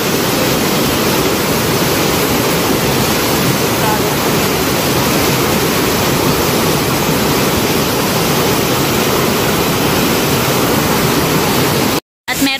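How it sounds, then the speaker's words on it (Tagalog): Mimbalot Falls in Iligan City roars as a loud, steady wall of rushing water, close and unbroken, with a brief cut near the end. "yung tubig ay nanggagaling din dyan sa talon"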